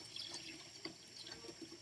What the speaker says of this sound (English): you should run some more water in the paint bucket and scrub it some more until it's totally clean